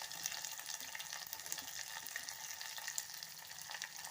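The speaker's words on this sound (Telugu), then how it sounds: "ఒక చిన్న సైజు ఉల్లిపాయ అండి, ఉల్లిపాయ వేస్తున్నాను" A small onion fries in a pan for Nellore-style pappu pulusu, giving a faint, even sizzle with scattered light crackles that runs unbroken, and no voices are heard.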